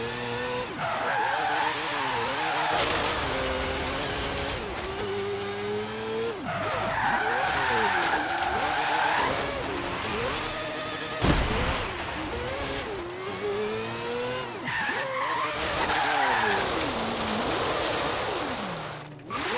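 A video game car drifts repeatedly, its tires squealing in long, wavering screeches while the engine revs and falls between slides, loud and continuous across several passes.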